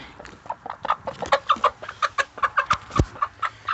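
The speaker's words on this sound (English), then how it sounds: "Here's the rooster." A black giant rooster and hens cluck close by on a farm, a busy series of short, rhythmic clucks and calls overlapping one another.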